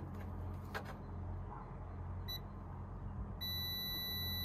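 A multimeter continuity tester on a digger's wiring sounds a short, sharp electronic beep, then a sustained tone near the end, against a low engine-like hum and a quiet outdoor background.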